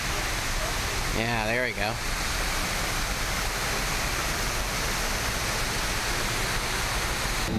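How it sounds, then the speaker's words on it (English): Large artificial waterfall at the Rainforest Cafe in Disneyland roars as a constant broad rush of falling water, loud and close, with a person speaking briefly over it early on. "Got a gigantic waterfall over here."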